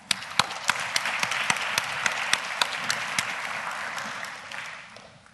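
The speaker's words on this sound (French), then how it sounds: "Sous vos applaudissements" Applause in a conference amphitheatre at a dyslexia awareness day in Lyon, with a broad steady wash of clapping and a few sharp, louder individual claps punctuating it, tapering off near the end.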